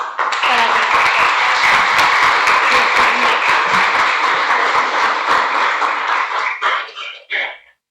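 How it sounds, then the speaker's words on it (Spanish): Loud, dense applause from a symposium audience greeting an engineer invited on stage at a university employability event, steady for about six seconds before tapering off in a few scattered claps. "vamos a recibirla con un fuertísimo aplauso"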